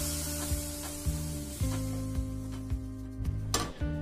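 Tomato ginger garlic paste sizzles in a pan with garam masala powders, a steady close frying hiss broken by regular scraping and clinking strokes as the mixture is stirred.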